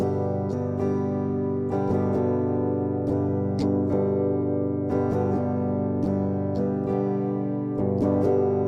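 Guitar strummed in short bursts with uneven gaps and hesitations, the rhythm stopping and restarting over a sustained ringing chord; no talking.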